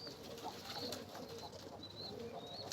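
Domestic pigeons coo steadily at close range, with soft repeated calls over a constant background hum and occasional faint chirps.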